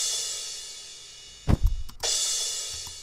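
Mono delay set up as a reverb on an aux bus, heard as a faint washy noise bed broken by a short burst of low, thumpy hits around the middle before the hiss resumes.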